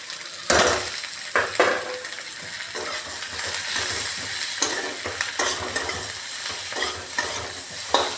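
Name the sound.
spices and tomato frying and stirred in a pan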